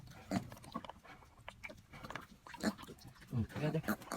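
Newborn piglets grunt and squeal in short, close bursts with scuffling movement, while a person talks quietly alongside them.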